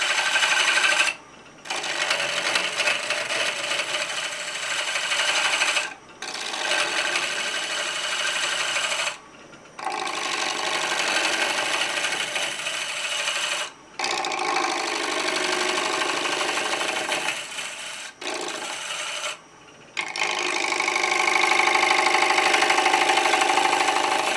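An old, worn woodturning lathe runs with a steady high whirring drone, broken by several brief pauses, alone without talk.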